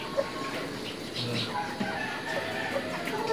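Chickens cluck softly at a distance, with scattered calls over a quiet outdoor background.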